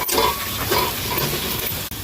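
A spice paste of salt, turmeric, ginger and garlic fries in a pan, a loud, dense, continuous sizzle close up with light stirring scrapes and no talking.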